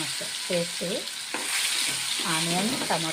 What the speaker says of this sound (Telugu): ఈ మసాలా కాస్త వేగిందంటే సరిపోతుందండి